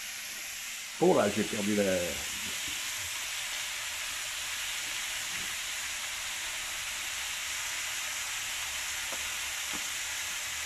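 Chopped cabbage dropped into a hot pan while cooking vegetable achard gives a brief loud sizzling burst that settles into a steady, quieter frying hiss, with a voice speaking over it.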